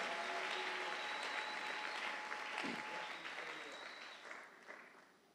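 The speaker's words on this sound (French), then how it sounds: "J'aimerais qu'on l'acclame encore." An audience at a church service applauds a pastor, with sustained clapping from a crowd that starts loud and gradually thins and fades out, heard alone without talking.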